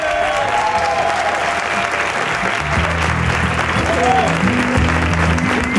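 A theater audience applauds continuously, a dense wash of clapping throughout, with voices and a faint melody faintly audible beneath it.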